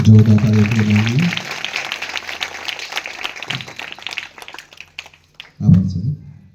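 Applause from an audience welcoming a guest at a school inauguration, a brief burst of clapping between spoken announcements over a loudspeaker.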